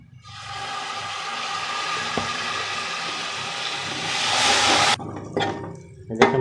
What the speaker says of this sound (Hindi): और अब हम इसमें थोड़ा सा पानी शामिल करेंगे।